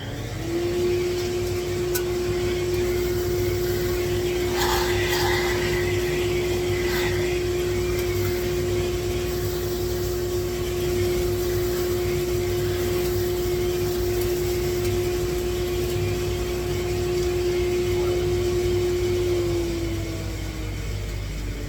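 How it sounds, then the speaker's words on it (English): A shop vacuum roars steadily at close range, a constant whine with a strong hum, running unbroken for about twenty seconds before cutting off. "Now I'm going to vacuum this."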